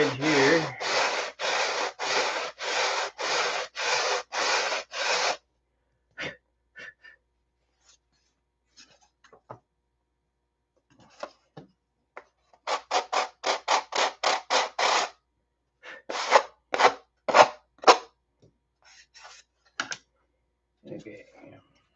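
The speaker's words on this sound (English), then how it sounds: "so we'll sand the straight edge here" Sanding along the straight edge of 7-ply aircraft plywood for model landing gear plates, heard as a fast run of rhythmic scraping strokes, then sparse scuffs and a second burst of short, close, fairly loud strokes.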